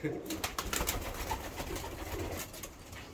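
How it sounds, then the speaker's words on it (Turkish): Pigeons in a rooftop loft with Danish postal and other breeds, busy feeding, give off low cooing and fluttering bird sounds close by, with some background voices and noise throughout. "Bizim kuşlarımız burada doyuyor."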